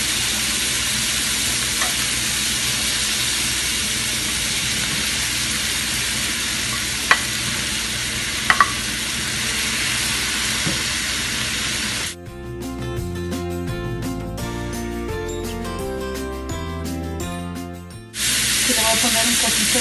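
Chiles frying in a pan with onion and garlic give a loud, steady sizzle and hiss with a few sharp pops. Music cuts in briefly near the end.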